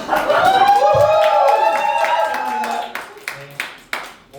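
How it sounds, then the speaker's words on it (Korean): A church youth-service congregation claps in welcome as a guest speaker comes forward. The clapping runs under a sustained voice and tapers into a few isolated claps at the end. "나오실 때 큰 박수로 환영하겠습니다"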